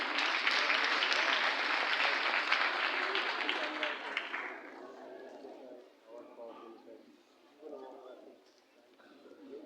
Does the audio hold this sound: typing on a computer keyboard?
no